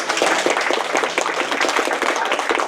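An audience applauds for the cameraman at a community gathering with a councillor's group, a steady dense patter of many hands clapping close by, continuous and lively with no voices over it.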